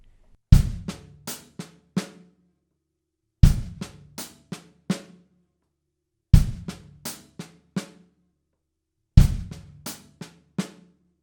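A slow drum kit groove in a group-of-five sticking, four repeated phrases each opening with a heavy kick and followed by quick snare and cymbal strokes, spaced by short gaps, close and clear with no talking.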